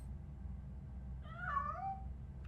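A cat in the video game RoboCop: Rogue City gives a single rising-and-falling meow lasting about half a second, clear over a low steady background hum.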